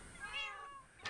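Several cats meow faintly in a video game, a soft drawn-out mew followed by a brief higher cry near the end, heard quietly against a low steady background.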